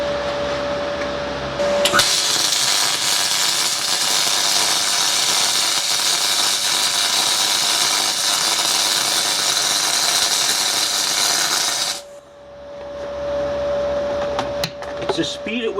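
Aluminium MIG welding with an R-Tech MIG 180 spool gun on 1/2 inch alloy plate: a close, loud, steady crackling arc hiss runs unbroken for about ten seconds, then cuts off abruptly, leaving quieter shop noise.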